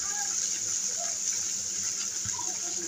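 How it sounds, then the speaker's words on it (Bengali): Water poured into a pan of oil and lightly browned onion paste, for a rohu belly-piece curry with flat beans and potatoes, makes a steady, moderately loud hiss and gush that lasts throughout. "এখন আমি এতে দিয়ে দিচ্ছি সামান্য পরিমাণে পানি"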